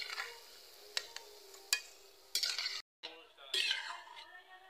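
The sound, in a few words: frying potato gulgula fritters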